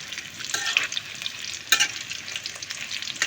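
Food frying in a pan, nearly done and turning brown, crackles and sizzles steadily with a few sharper pops and stir-like scrapes, close and moderately loud, with no talking.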